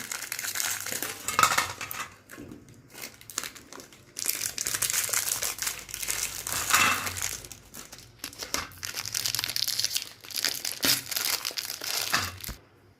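Biscuits, including Happy and Oreo types, broken by hand into small pieces on a plate, repeated crisp cracking and crinkling snaps in uneven bursts, close and loud, with no talk.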